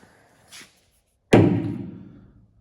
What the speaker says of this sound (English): want to make sure your door's shut nice